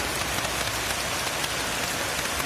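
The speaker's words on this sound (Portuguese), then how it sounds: "está começando a cair um pouco d'água" Steady, dense rain pours down in Valadares as a long-awaited storm begins, hissing on surfaces as an even, close wash of sound with no voices.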